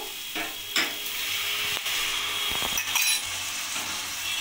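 Radish masala frying in a pan for a Bhola fish curry has water poured in. The sizzle runs steady throughout, with a few sharp clinks and scrapes of stirring. No one speaks.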